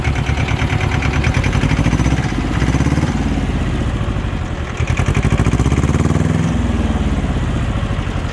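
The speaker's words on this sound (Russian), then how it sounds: "Вот они, наши холостые обороты." Small Japanese ISEKI TS1610 two-wheel-drive mini tractor engine idling steadily, a loud close diesel-like chug with a slight wavering pitch and no talk.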